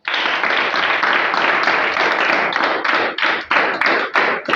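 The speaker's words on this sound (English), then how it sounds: "So can you clap for yourselves?" Classroom of students clapping for themselves after a science experiment: dense, loud applause that thins into scattered claps toward the end.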